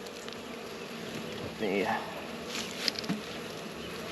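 Honey bees buzzing around an open hive while honey supers are being added, a close insect drone with individual bees passing near, under brief spoken words.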